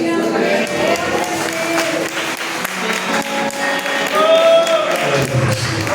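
A church congregation applauds in a sustained, fairly loud patter of clapping, mixed with tonal music or voices through the room.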